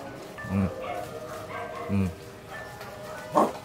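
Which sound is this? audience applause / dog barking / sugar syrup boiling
dog barking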